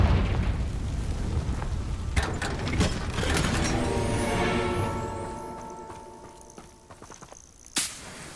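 Confringo fire spell blast in Hogwarts Legacy on PC: a loud fiery explosion with booming crackle and rumbling debris, fading into a long tonal ringing tail, then a sharp final burst near the end.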